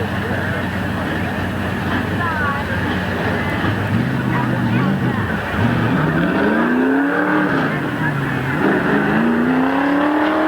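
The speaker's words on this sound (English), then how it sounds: "getting ready for the first sports stock heat race." Stock cars race at Midvale Speedway, engines roaring loud and continuous with revving pitch sweeps and tire noise as the field passes, an announcer talking over the din.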